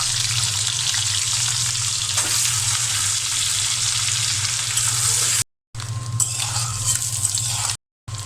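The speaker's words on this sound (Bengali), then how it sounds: "ডিম ভাজি করা হয়ে গেছে" Eggs fry in a pan beside a pot of rice, giving a loud, steady sizzle that runs almost unbroken. It cuts out twice for short breaks.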